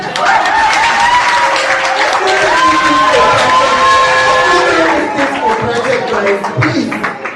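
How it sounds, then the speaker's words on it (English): Clapping and crowd noise at a lecture on land alienation in Kenya, steady and loud throughout, with voices and talk mixed into the applause as it tapers near the end. "A clap for democracy."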